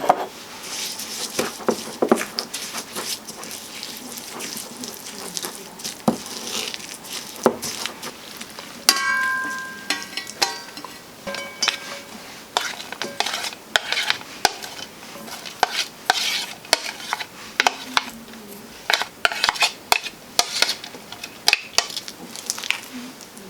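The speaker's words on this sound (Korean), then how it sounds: "양념장을 모두 넣고 버무려 주겠습니다." Seaweed salad being tossed by hand with gochujang seasoning, sesame seeds and sesame oil, giving wet squishing and soft irregular clatters in a bowl, close-up with no talk.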